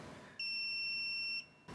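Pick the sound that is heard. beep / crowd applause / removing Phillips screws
beep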